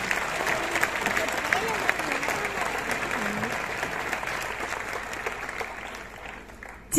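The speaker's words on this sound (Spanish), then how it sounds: "Fuerte el aplauso para Enar." Crowd applause during the proclamation speech at the Lerma town festival, a steady sustained clapping heard from a distance with faint voices mixed in, tapering off toward the end.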